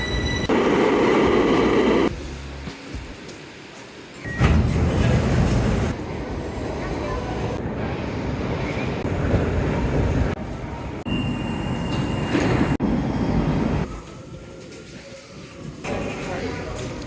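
A Bucharest metro train in motion, its rumbling carriage noise rising and falling in sections with louder bursts between quieter stretches, with people talking over it.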